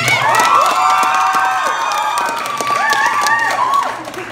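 A concert crowd cheers and claps, with high voices shouting and whooping over a layer of scattered applause, loud and lively throughout.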